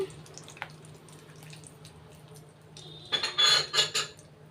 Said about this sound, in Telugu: వెల్లుల్లిపాయలు వేసుకున్నాను. వెల్లుల్లిపాయలు కొంచెం చిందుతాయి, జాగ్రత్తగా చూసుకోండి.